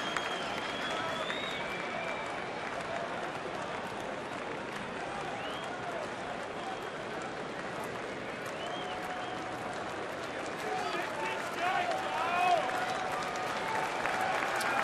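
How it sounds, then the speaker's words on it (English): Baseball crowd at a Washington at Milwaukee game cheers after a strikeout, a steady wash of distant stadium noise and scattered clapping that rises near the end, with voices mixed in. "Crowd cheering for a strikeout."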